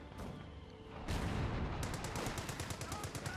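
Browning automatic rifle fire in the World War II strategy game Company of Heroes 2, heard as a rapid, sustained burst of automatic shots following a heavier boom, with other battle noise around it.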